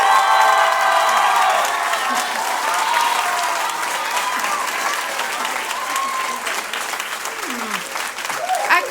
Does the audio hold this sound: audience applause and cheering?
yes